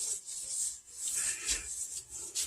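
A coffee filter wiping a thin coat of tallow onto a cast iron pan, producing a close, soft, papery rubbing with uneven back-and-forth strokes that swell and fade.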